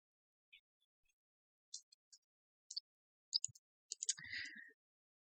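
A computer mouse gives a handful of faint, sparse single clicks in near silence, followed by a brief soft rustle at the end.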